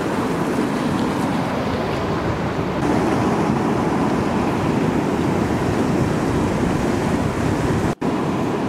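Waves wash steadily onto a beach, a continuous close roar of surf mixed with wind buffeting the microphone, no voices.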